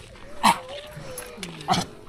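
A dog gives two short, sharp barks about a second apart, close by, with a person talking in the background.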